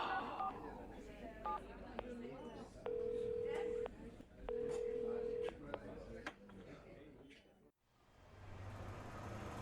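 A phone being dialed: a quick run of touch-tone beeps, then two long steady tones like a ringback, heard up close over background noise and movement.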